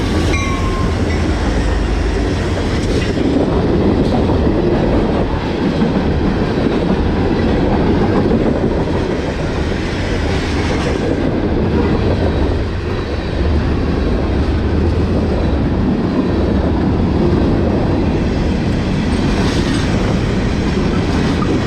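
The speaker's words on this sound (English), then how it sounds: "freight train." A Union Pacific freight train rolls past a Utah station, a loud, close, continuous rumble of wagons with rhythmic clacking over rail joints throughout, no voices.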